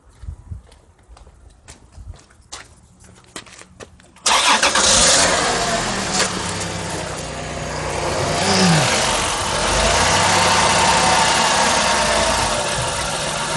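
The 3.5 liter engine of a 2006 Chrysler Pacifica with a broken front motor mount, heard faintly idling at first, then a loud, close engine rumble and roar that holds steady as the engine is revved.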